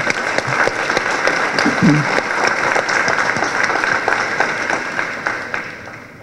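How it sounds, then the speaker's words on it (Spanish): A crowd applauds at a ceremony marking the first anniversary of a specialized anticorruption system. The clapping is dense and sustained throughout, with a brief faint voice partway through. "solicitando para ellos un fuerte aplauso por su presencia con nosotros"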